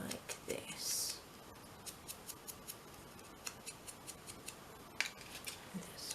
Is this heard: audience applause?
no